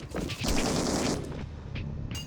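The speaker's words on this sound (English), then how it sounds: "I'll just back up and use my Gatling cannon." A Gatling cannon in the game Rengoku fires a dense, roaring burst of rapid shots at close range. The sound is loud and continuous, then fades into a short tail.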